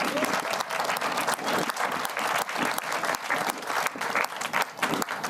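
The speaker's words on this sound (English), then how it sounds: "Give yourselves a round of applause." A crowd at a polocrosse awards ceremony gives a loud, sustained round of clapping, dense and even from start to finish with a few cheers mixed in.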